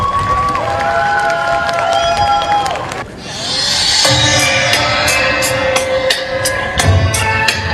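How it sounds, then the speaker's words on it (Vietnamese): An outdoor crowd at a commemoration event at the USS Midway Museum cheers and applauds for a high school drum troupe, loud and sustained, with whistles and background music tones. "Xin quý vị cho một tràng pháo tay."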